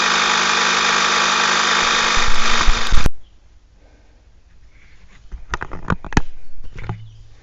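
A Temu electric car jack whirs loudly and steadily for about three seconds, then stops abruptly, leaving quiet knocks and scattered clunks of handling nearby.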